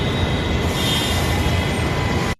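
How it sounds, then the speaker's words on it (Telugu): A metro train pulls into a station with a loud, steady rolling rumble and a thin high wheel squeal that lasts the whole time, then cuts off abruptly at the end. No voices. "మా మెట్రో వచ్చేస్తుంది."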